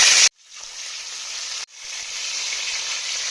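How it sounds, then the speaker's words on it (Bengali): Salted pieces of katla fish drop one by one into hot white oil in a wok, each setting off a loud, close, hissing sizzle that holds steady, with a brief gap before the next piece goes in. "এবারে একে একে মাছগুলোকে তেলের মধ্যে দিয়ে দেব।"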